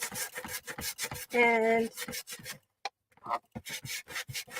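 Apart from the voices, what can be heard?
sandpaper rubbing on painted surface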